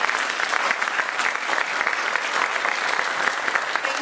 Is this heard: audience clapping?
yes